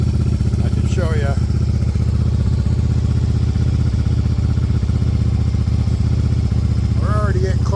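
A Yamaha Virago 750 chopper motorcycle engine runs at a fast idle with a steady, loud, even throbbing that never changes, close to the bike, with brief squeaky sounds near the start and end.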